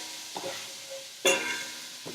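Onions and carrots sizzle in hot oil with a steady hiss, punctuated by a louder burst of crackling as they are stirred or added.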